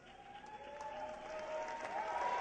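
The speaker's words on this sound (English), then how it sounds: "One more big round of applause." Audience applause at a talent show as the winners come out, a steady patter of clapping under a sustained tonal hum, growing slightly louder toward the end.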